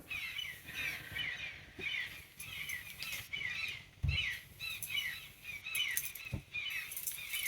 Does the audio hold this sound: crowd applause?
no